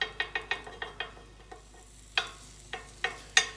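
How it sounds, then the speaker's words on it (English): Egg being whisked in a bowl for scrambling, a quick run of close clinking fork-on-bowl taps, then slower, scattered strikes, clear and fairly quiet, while bread cooks in the background for a bacon, egg and cheese sandwich. "I'm just going to mix up that egg. I want it to be scrambled."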